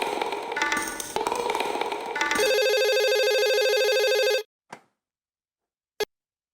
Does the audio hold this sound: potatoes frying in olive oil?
no